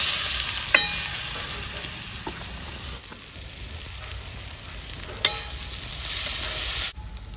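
Dried red chillies, whole cumin seeds and chopped onion sizzle and crackle steadily in hot oil, with a few sharp spatters and stirring clatters in a rustic village-style kitchen, no voices.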